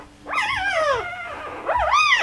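Newborn poodle puppies whimpering, close up with high, wavering squeals that rise and fall in two drawn-out bursts, no talking.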